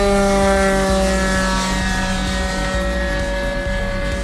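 A warbird airplane drones past in flight, its propeller engine giving a loud, steady, tonal hum that holds close and constant without a break.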